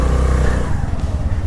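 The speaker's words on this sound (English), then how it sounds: "I'm gonna use the Kickstarter, cause it's just so fun to kickstart a motorcycle" A Honda Navi mini motorcycle, kickstarted, fires up, its small engine catching and settling into a loud, close, throbbing idle.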